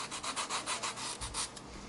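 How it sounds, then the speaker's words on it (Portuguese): Sandpaper rubbing over EVA foam while shaping the chin of a 3D foam craft figure: about eight quick, close, scratchy back-and-forth strokes in a steady rhythm, with no talking. "Então, lixamos. Desse jeitinho aqui."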